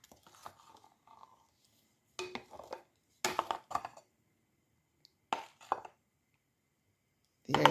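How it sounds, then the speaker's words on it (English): Fritter batter with sugar being stirred in a bowl, heard as short bursts of scraping and clinking separated by silent pauses, close and moderately quiet. "So I'm just adding the sugar and then stir everything together."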